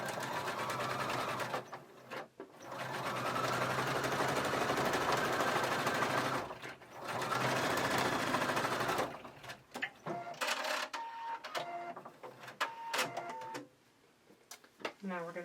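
A sewing machine stitches a seam on Bonny leggings in long, steady whirring runs, stopping briefly between passes, then shorter stop-start bursts and handling clicks, with someone talking intermittently near the end.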